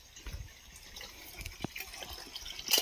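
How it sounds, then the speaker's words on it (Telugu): Water runs down from a hillside in a forested valley, a close, uneven trickling and dripping with small splashes, faint and without voices. "ఇక్కడ చూసుకున్నట్టయితే గట్టు ప్రాంతంలో నుంచి నీళ్ళు వస్తున్నాయి."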